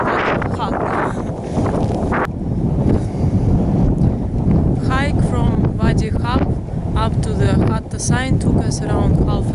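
Gusty wind blusters against the microphone on a hiking trail in Hatta, United Arab Emirates, a continuous rough rumble with people talking over it throughout.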